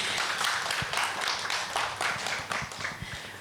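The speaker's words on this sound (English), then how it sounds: "Please give a round of applause to Pick and Pay." Audience applause at a culinary cook-off competition in Eswatini, a steady patter of many hands clapping at moderate distance, sustained throughout.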